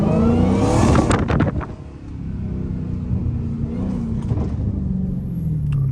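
A loud Dodge Hellcat engine rumbles and revs, with sharp popping bursts from the exhaust and a faint high squeal of squeaking brakes near the end, in hurricane weather.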